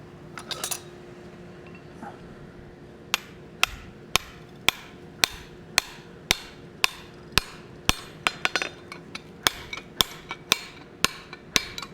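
Hammer blows on hot steel at an anvil during forging of a forging hammer, a steady series of sharp, ringing strikes about half a second apart, close and loud over a quiet workshop hum.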